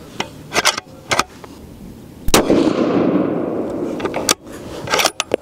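Remington 700 ADL rifle in 30-06 with an MDT XRS chassis fires factory ammunition at a shooting range: several sharp cracks spread across a few seconds, one loud and close with a long rolling echo after it.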